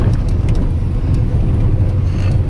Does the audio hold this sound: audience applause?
no